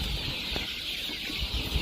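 Chickens clucking in a coop while being fed termites, a busy close cluster of short clucks and scratches over a steady background hum.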